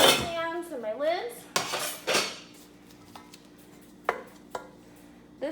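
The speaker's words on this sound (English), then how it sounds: "Now I'm going to double check my frying pans, my sauce pans, and my lids." Metal frying pans, saucepans and lids clatter and clank in a holiday resort studio kitchen, with a long ringing scrape followed by scattered sharp knocks and a few brief metallic taps, close up with no voices.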